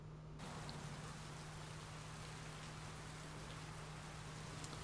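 Soft, steady wash of rain in the video game Heavy Rain, a constant faint patter with a low hum beneath it, no voices.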